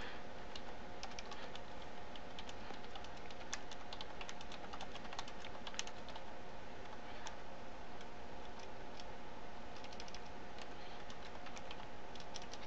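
Someone types a name on a computer keyboard, producing faint, quick, irregular key taps that run steadily throughout, distant and soft against a low background hiss.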